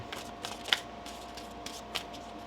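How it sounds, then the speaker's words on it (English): Tarot cards being shuffled by hand, a series of soft papery riffles and quick flicks with a few sharper snaps, close and fairly quiet, with no one talking. "One more shuffle."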